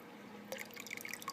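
Aquarium water trickles slowly down the side of a small plastic container holding a shipped reef invertebrate, quiet close drips and light splashes starting partway through after a brief hush, with no voices.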